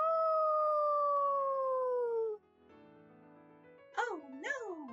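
Several wolves howl in a long, loud, falling tone, followed after a short quieter gap by rising and swooping yips and howls close by.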